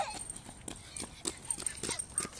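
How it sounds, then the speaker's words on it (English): A horse's hooves clip-clop on the ground at a campsite by a seaside resort, with a few brief, evenly spaced knocks at moderate distance while people talk nearby. "Oh, there's the horse."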